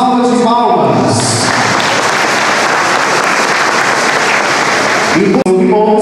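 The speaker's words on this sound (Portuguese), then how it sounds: "Uma salva de palmas." Crowd applause at a public gathering swells up after a man announces over a loudspeaker, holds as several seconds of dense clapping, then fades as his amplified voice returns.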